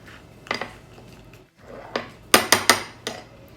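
A utensil stirring and folding banana batter in a bowl makes scattered close clinks and scrapes, ending in a few sharp knocks against the bowl's rim.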